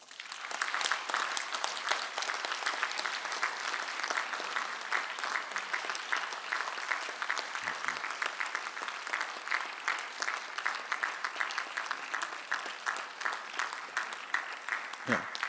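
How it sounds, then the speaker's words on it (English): Long, even applause from an audience in a lecture hall, with dense clapping at a moderate distance that holds steady for about fifteen seconds. "Ladies and gentlemen, please give a big applause to them."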